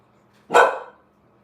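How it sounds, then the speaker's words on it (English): A single sharp dog bark, close and loud, in an otherwise quiet room. "What are you barking at?"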